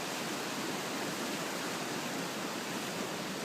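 River floodwater from the 2013 flood at Drake rushes along the course of the old road as a dense, continuous, broadband roar, loud and unbroken, with nobody talking.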